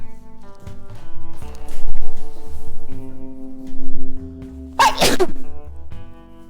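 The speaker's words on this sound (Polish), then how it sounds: "Czy tylko ja lubię kichać?" One sharp, loud sneeze bursts out near the end over a quiet tonal background, close to the microphone.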